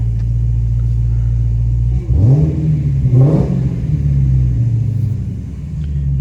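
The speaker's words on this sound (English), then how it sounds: "I'll give you guys a couple revs." A Dodge Hellcat V8 idles with a deep, loud rumble and is revved twice in quick succession, each blip rising sharply and settling back to a steady idle, heard up close with no talking.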